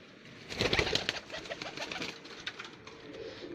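BMW breed pigeons coo in a loft with a run of soft, repeated throaty calls, louder near the start and trailing off into quieter murmurs.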